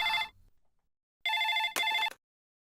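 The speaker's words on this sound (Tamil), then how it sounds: "ஃபோன் அடிச்சிட்டு இருக்கு பாரு" A telephone rings in a Tamil TV serial scene: a short electronic ringtone burst, a pause of near silence, then two more close, loud bursts back to back.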